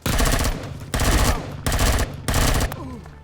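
Sustained automatic gunfire from turrets in the space survival game Empyrion Galactic Survival, loud rapid bursts in four long volleys separated by brief gaps.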